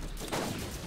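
Gunshots from the video game Borderlands land as a brief, dense burst of gunfire that fills the full second.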